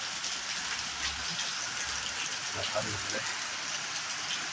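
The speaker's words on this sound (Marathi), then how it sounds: "बाहेर तुम्ही पाऊस खूप जोरदार पाऊस चालू आहे" Steady rain hisses outside without a break, a constant wash of falling water with faint voices now and then.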